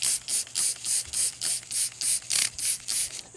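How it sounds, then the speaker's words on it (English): Short bursts of cleaner spray onto dirty engine parts from a Grand Am, about a dozen quick hissing pumps in a steady rhythm, close by and fairly quiet. "We'll spray some stuff on it."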